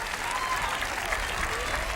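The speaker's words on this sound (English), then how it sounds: "And a round of applause" Crowd applause at a 1992 homecoming-night high school football game, Berkley at Ferndale, outdoors in a stadium; steady, moderately distant clapping and crowd noise fills the whole stretch without a break.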